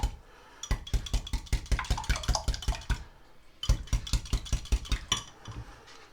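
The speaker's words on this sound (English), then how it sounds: "Then it's just a case of mixing it together." Eggs and crème fraîche, seasoned with salt and pepper, are beaten together in a bowl for a smoked salmon and asparagus tart, giving fast, regular strokes in two bursts separated by a short pause.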